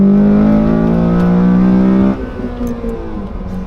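A Honda Civic Si fitted with an HKS exhaust revs hard and loud up close, holding a steady high drone for about two seconds before dropping off into a lower burbling idle.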